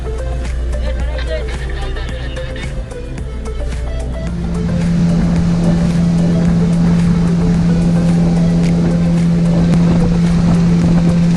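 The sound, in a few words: speedboat ride on the Andaman Sea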